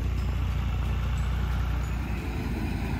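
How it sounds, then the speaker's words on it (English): A small Ford 3000 tractor fitted with hay stingers runs steadily in a hay field, a continuous low engine drone with an even, unbroken rumble at moderate distance. "He's just using the little tractor with the hay stingers that go on the back of the little Ford 3000."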